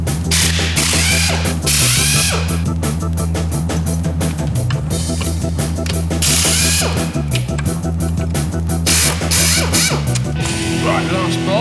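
Fast, loud ratcheting and mechanical clatter from a tool undoing gearbox bolts on a car, continuous and close throughout.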